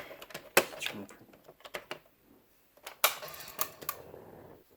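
A 1980s Texas Instruments TI-5160 II printing calculator, under repair, printing in irregular bursts of sharp mechanical clatter and clicks, close and fairly quiet, with short pauses between runs.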